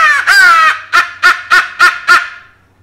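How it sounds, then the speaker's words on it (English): A crow call is blown as a loud blast for turkey hunting: one long, harsh drawn-out caw, then five short, sharp caws in an even rhythm. It is very close and loud, with nothing else heard. "I go to a crow call."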